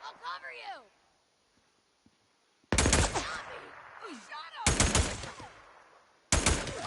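Bursts of automatic gunfire in Days Gone, three loud rapid volleys separated by pauses, with someone talking between and over the shots.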